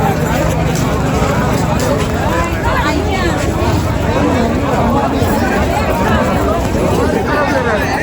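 Dense crowd hubbub at the Triveni Sangam boating ghat, many voices overlapping in a constant, loud babble with people talking nearby throughout.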